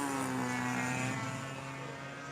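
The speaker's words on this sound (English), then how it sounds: "let's see this PT-19 fly" A PT-19 model airplane's engine runs steadily and loudly close by, a continuous droning whine with a slight pitch sag as it keeps going.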